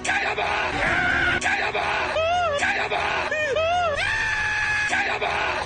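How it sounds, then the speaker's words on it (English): A middle-aged male anime character in Sword Art Online lets out a series of shrill, high-pitched screams, loud and sustained with wavering, sliding pitch and brief breaks between outbursts. "a middle-aged man who just happens to scream like a 15-year-old girl"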